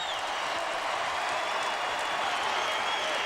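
Loud, dense roar of a basketball arena crowd cheering and applauding after a go-ahead three-pointer in an East Tennessee State versus Tennessee college game, a steady wash of noise with no breaks.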